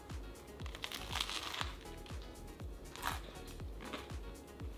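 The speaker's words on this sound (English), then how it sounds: "Did you hear that crunch?" Repeated crisp crunches of someone biting and chewing food close up, a steady series of crackly bites with no talking.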